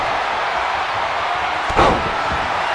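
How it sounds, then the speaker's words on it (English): A wrestler is body slammed onto the ring mat in a single brief thud that lands over a constant wash of arena crowd noise. "Now Isaac picking up Landon, body slams him"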